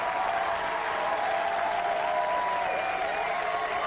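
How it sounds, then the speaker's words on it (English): Studio audience applause for celebrity judges on a primetime TV game show, a steady, dense roar of clapping that holds evenly for about four seconds with no voices over it. "Let's give our celebrity judges a big round of applause, ladies and gentlemen."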